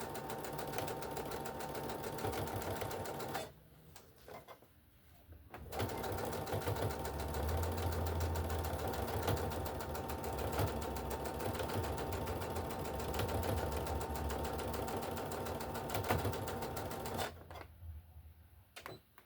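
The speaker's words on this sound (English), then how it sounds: "Now I'm going to back stitch a few back stitches to lock the stitch in since I moved it." A sewing machine back stitches on a walker caddy in steady, rapid mechanical clatter, pausing briefly twice, then running on at a close, even pace with no talking.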